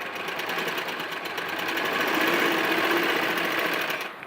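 Sewing machine running continuously while stitching lace onto the back neck of a saree blouse, a close, steady whirring rattle that stops abruptly at the end.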